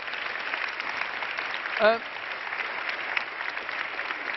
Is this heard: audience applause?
yes